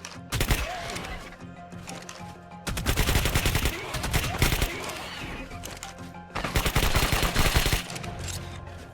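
Rapid automatic gunfire in the ARK video game with the Additional Munitions mod, sustained sharp bursts of shots in several long volleys separated by brief pauses, loud and close.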